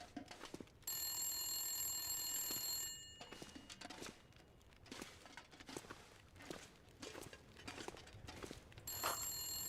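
A telephone rings in the survival game The Long Dark, its bell sounding in steady bursts at first and again near the end, with footsteps shuffling and thumping in the pauses.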